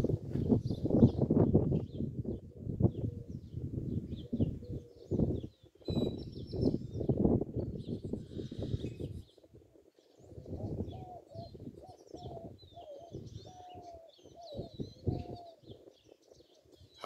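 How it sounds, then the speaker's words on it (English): Doves cooing in a park in Alpine, Texas, repeated low soft calls heard fairly close over steady outdoor background, with louder broadband sound in the first half and clearer, quieter cooing later. "I hope y'all can hear the doves"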